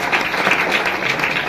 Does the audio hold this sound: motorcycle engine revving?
no